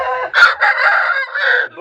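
A hen clucks and cackles loudly and close after laying an egg, in a few harsh bursts with short pauses, alone with no talk.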